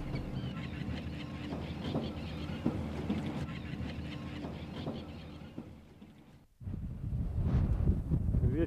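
Strong wind gusts over an iceberg-strewn lake in Patagonia, rumbling and buffeting the microphone in steady low roars, with a brief lull before a louder gust returns.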